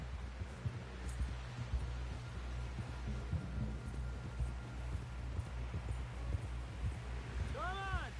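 Horse hooves clop at a steady rhythm in Red Dead Redemption 2, a low repeated thudding under a rumbling background of movement, with a short sweeping tonal effect near the end.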